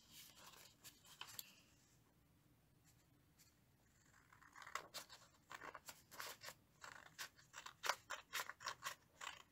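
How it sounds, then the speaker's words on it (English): A pair of scissors snips through origami paper along a crease in quick, crisp cuts, first a few strokes, a pause, then a steady run of close, rhythmic snips. "you're going to cut along that crease with a pair of scissors"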